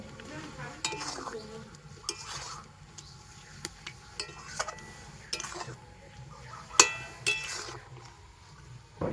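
Raw mango pieces stirred into jaggery with a spoon, producing soft scrapes and scattered light clinks against the pot in an irregular rhythm, close and fairly quiet.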